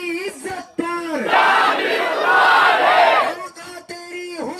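Protest crowd at a sit-in demonstration in Parbhani, Maharashtra, loudly roaring a slogan in unison after a leader's amplified call, the leader's chant heard before and after the surge, with a close, full swell in between.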